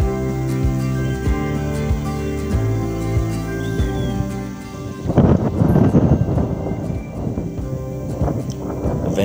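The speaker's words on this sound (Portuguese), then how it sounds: "Ventando bastante" Strong wind buffeting a Fimi X8 SE drone in flight over the city of Jequié, Bahia, a steady broadband roar that surges louder and gustier halfway through, with rumbling bursts.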